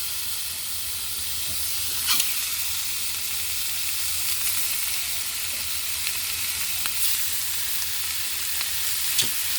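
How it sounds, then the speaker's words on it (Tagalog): Pork belly sizzles on a hot grill for sisig, a steady close crackling hiss with occasional sharper pops and spits over the continuous frying noise. "Yan, ihawin na po natin yung pork belly."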